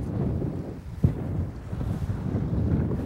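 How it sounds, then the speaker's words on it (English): Wind buffeting a fishing boat out on Lake Erie, a steady low roar of gusts rushing over the microphone with one brief knock, close and without talk. "You can hear the wind blowing, see the wind blowing, see the waves."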